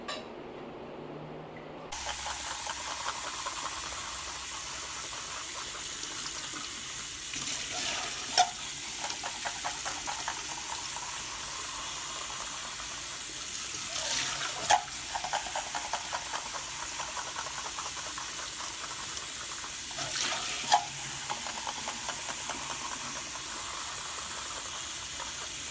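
Tap water runs steadily in a long, even hiss while developed black-and-white film is washed at home, with a few faint knocks or clicks over the constant flow.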